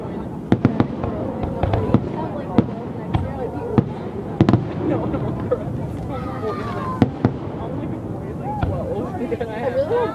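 Fireworks burst in a park as a string of sharp bangs and crackles spread across the clip, with people talking and chattering nearby throughout.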